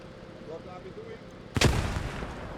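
A single loud, sharp gunshot blast from a Bren gun in the Post Scriptum video game, arriving after a second and a half of low background rumble and trailing off in a reverberant decay.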